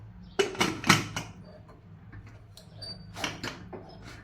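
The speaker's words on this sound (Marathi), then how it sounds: "आता कुकरला झाकण लावूयात" A pressure cooker lid is fitted and closed over chicken rassa in green masala gravy, giving a few close metallic clanks and scrapes in two short bursts, then quiet.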